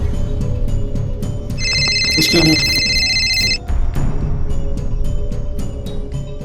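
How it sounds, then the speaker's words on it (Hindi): An electronic telephone ring sounds once in a Hindi-language drama scene, a bright warbling trill lasting about two seconds over a continuous background score with rhythmic ticking. "सर मंत्री आसिफ रॉय के बॉडीगार्ड का फोन था"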